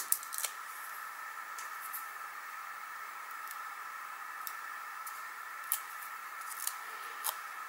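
Scissors cut paper flowers out by hand from stamped card in quiet, scattered snips. The crisp clicks come close against a faint background hiss, with a few sharper snips standing out.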